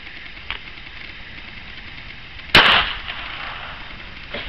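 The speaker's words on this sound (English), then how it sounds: "Here we have the redneck tick disposal firing squad." A single sharp gunshot cracks out midway, loud and close, from a backyard redneck tick disposal firing squad, trailing into a brief ring over a low idling engine hum and a faint click beforehand.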